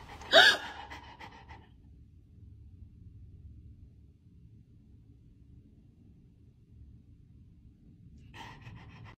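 A single sharp gasp of breath near the start, then a long low rumble with near silence, ending in a faint breathy sound.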